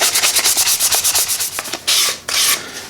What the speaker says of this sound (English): 400 grit sandpaper works amazingly well. It's really cleaning the binding up really nice.